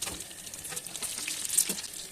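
Chicken and potato kababs coated in egg shallow-fry in a pan with a soft, uneven sizzle and light crackling, close and fairly quiet, with faint stirring noises.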